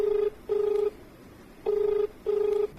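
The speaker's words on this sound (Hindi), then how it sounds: "डॉक्टर साहब एक फोन आवता" Repeated steady telephone tones, four long beeps in an uneven rhythm with short gaps between them, clear and close with no talking.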